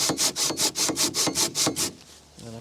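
A hand saw cutting wood in a boat repair workshop, nine quick rhythmic rasping strokes close up and loud, followed by a quieter pause with a faint rub.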